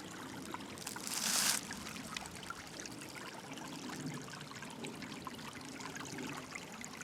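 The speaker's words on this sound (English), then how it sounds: "Just taking a minute to look at the creek and listen to it" A creek flows with a steady, soft trickling wash close by, with a brief louder splash near the start and no talking.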